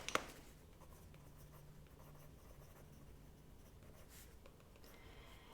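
Colored pencil or pen scratching across paper while an idea gets jotted down during a live bird-drawing session, a quiet steady scribble with a brief louder tap at the start and low background hum.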